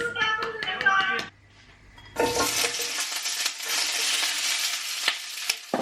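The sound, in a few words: fajitas sizzling in a wok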